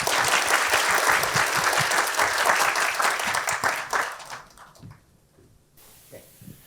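A lecture audience at a university talk applauds to welcome the speaker, with dense, steady clapping that thins out and fades to near quiet.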